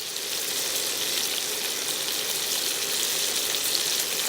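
Cajun chicken with rosemary cooks in a pan on medium heat, giving off a steady, loud, unbroken hiss of sizzling that lasts the whole time, with no voices.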